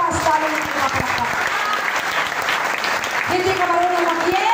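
Applause from an audience at a Vita Plus leadership training seminar, a dense steady patter of clapping that runs the whole time, with a voice speaking over it.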